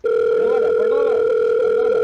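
Steady telephone dial tone held loud and continuous while a phone call is placed to reach a tap plumber, faint voices murmuring underneath.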